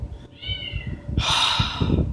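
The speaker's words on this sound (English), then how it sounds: "I'm sorry if you can hear that meowing in the background" A cat shut in a bathroom meows twice, a drawn-out call followed by a louder, higher one, heard indoors at moderate distance with faint low background noise.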